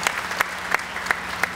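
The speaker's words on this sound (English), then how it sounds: "I think, too, that deserves a round of applause." Applause at Hampton University's Founding Day ceremony, a steady wash of clapping from an audience with a few sharper, louder claps standing out at intervals.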